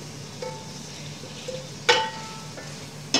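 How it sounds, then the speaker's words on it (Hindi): Fried okra added into simmering chicken curry, a soft steady sizzle with a few scattered clinks and one sharp metallic knock, close and fairly quiet. "अब हम ये फ्राई की हुई जो भिंडियाँ इसमें डाल देंगे"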